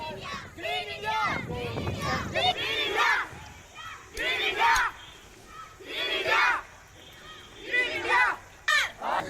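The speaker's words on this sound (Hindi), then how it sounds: "ग्रीन इंडिया क्लीन इंडिया के नारे बुलंद किए गए।" School students at a street rally chant Green India Clean India slogans in loud call-and-response bursts, a leading voice answered by the group shouting together in repeated rhythmic waves.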